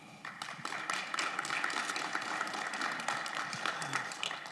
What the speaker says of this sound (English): let's give a round of applause for Miss Rolanda Tome for her well-spoken